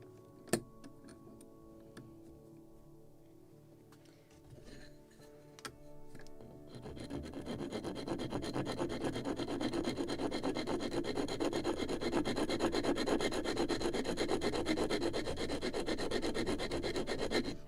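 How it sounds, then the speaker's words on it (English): Steady rhythmic rasping of a sanding block rubbing back and forth on a wooden model ship part, close and continuous after a few light taps and scrapes at the start. "But this one I can do with sanding block."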